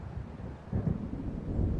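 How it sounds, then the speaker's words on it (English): Low rumbling thunder rolls in as a storm approaches over a lake shore in Alan Wake, a deep swell building midway and lingering under faint wind and surf. "It seems there's a storm coming."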